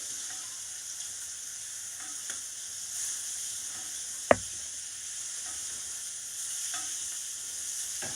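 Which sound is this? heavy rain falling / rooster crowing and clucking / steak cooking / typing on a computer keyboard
steak cooking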